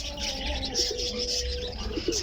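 Pigeons kept for sale coo softly and repeatedly nearby, their low murmuring calls overlapping with light chirps and faint background noise.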